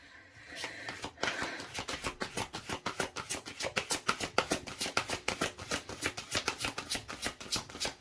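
A deck of cards being shuffled for a tarot reading, a quick run of crisp riffling flutters, close and fairly quiet, with no talking.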